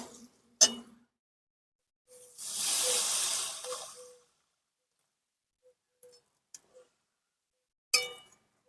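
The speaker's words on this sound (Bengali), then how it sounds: "এবার আমি ঝোলে জল দিয়ে দেব" Water poured into a pan of hot, oil-released fried spices for a Bengali moong dal curry, giving one loud hissing sizzle burst of a couple of seconds, framed by a few sharp clinks of utensils against the pan.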